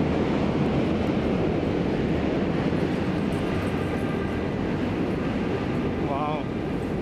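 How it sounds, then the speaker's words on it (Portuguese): A New York City subway train rumbles past in Brooklyn in a long, steady roar, with a faint voice briefly audible near the end. "O metrô passando lá, ó."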